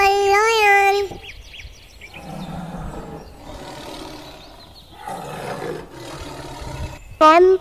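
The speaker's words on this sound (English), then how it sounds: "L for lion." A lion roar, loud and strongly tonal, opens the sequence in a children's alphabet rhyme, followed by rumbling growls and voices, and a sharp loud burst comes near the end.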